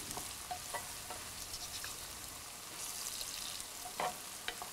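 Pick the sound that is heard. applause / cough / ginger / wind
ginger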